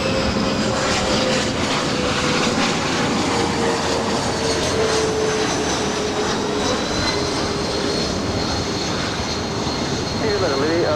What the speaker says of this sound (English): up next, United Express, operated by SkyWest Airlines, coming in from Sacramento. It's a CRJ 200LR.